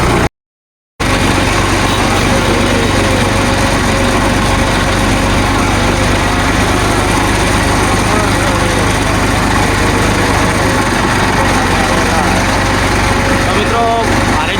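A loud, continuous engine drone from a moving tractor, heard up close and steady throughout after a brief silent gap at the start.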